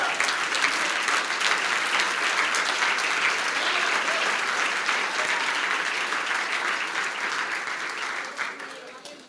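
Church congregation at Igreja CCR Vila Alzira applauding during a sermon: a full, sustained wash of clapping and crowd noise that holds steady, then thins slightly toward the end.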